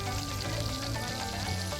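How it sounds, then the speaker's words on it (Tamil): A steady, dense crackle and hiss of sliced onions frying in hot oil, continuous and close, with no talking. "எண்ணெய் நல்லா கொதிஞ்சதுக்கப்புறம் வெங்காயம் நறுக்கி வச்ச வெங்காயத்தை அதில் போட்டுக்கலாம்"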